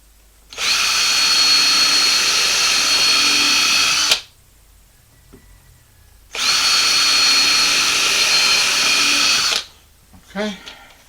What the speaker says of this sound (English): Drill my pilot holes.